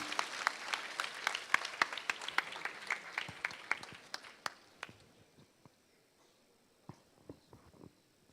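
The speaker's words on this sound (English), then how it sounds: "I'll request the audience to give a big round of applause and welcome them, please." An award ceremony audience applauds, thinning from a dense wash into scattered individual claps that trail off into quiet.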